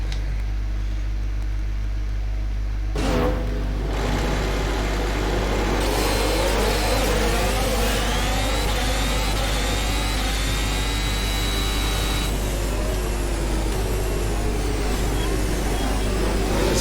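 Formula 1 race cars in the rFactor F1 2020 sim rolling round a Vietnam Grand Prix formation lap, engines droning steadily with rising and falling pitch sweeps as the pack pulls away, someone talking over the constant engine hum.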